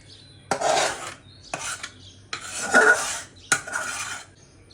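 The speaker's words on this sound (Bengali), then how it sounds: "আমি আমটা মানে সেকে নেওয়ার জন্য এরকম একটা ফুটা ফুটা জালি নিয়েছি" Boiled mango pulp pressed and scraped through a perforated metal strainer with a utensil, four separate rasping, scraping strokes close up, with no talking.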